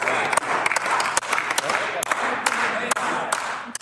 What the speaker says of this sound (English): tired applause in the Manitoba legislature